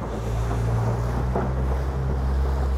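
A Boston Whaler 160 Super Sport motorboat runs its outboard at about 1500 RPM in sheltered water on a windy day, a steady low engine drone mixed with wind and water noise.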